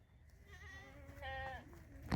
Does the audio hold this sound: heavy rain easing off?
no